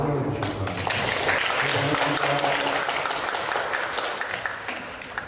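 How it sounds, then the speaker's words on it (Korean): An audience at a science book lecture gives sustained applause to welcome the speaker, a loud continuous patter of many hands, with voices murmuring underneath. "많은 박수를 환영해 주시기 바랍니다."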